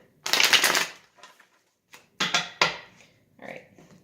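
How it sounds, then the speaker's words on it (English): Bursts of riffling tarot card shuffles, a long rapid flutter followed by a few shorter riffles and soft taps, close by with no talking. "I'll just do one more quick shuffle and we'll get started"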